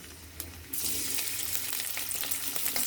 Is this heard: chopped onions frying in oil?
yes